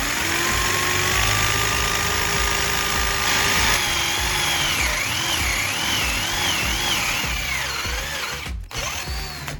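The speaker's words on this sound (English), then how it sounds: "drill a hole in the wooden handle so you can attach the soldering tip assembly securely" A power drill bores a hole through a wooden handle for a homemade soldering iron, a loud continuous whirring whine that holds steady and then wavers in pitch, with no talking.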